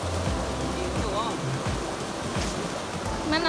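A river runs steadily beside a durian orchard, with a continuous wash of flowing water close by and a few faint voices and stray sounds over it.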